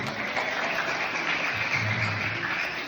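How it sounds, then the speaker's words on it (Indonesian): A classroom of students claps briefly during an Arabic grammar lesson, a dense, fairly even patter of hands lasting about three seconds with no talk over it. "Tepuk tangan"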